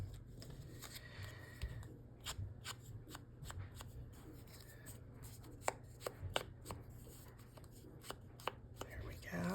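Maroon paper edges being distressed for a junk journal, a run of sharp scraping and rasping strokes in an irregular rhythm, close and fairly quiet over a steady low hum.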